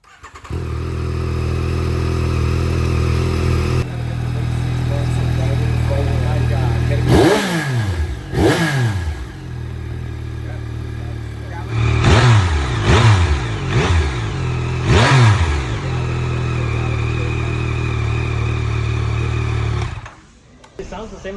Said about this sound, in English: Speaking of the engine sound, when they actually started the bike,